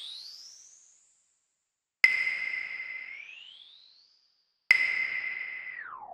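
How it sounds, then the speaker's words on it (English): Native Instruments RAUM reverb with its size control swept, turning three struck tones into long ringing tails whose pitch glides up and then down as the reverb swells and fades. "the size, which adjusts the swell and the reflection pattern of the reverb"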